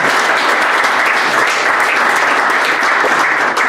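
An audience at a football supporters' forum applauds, dense steady clapping from many hands filling the space, loud and sustained with no voices over it.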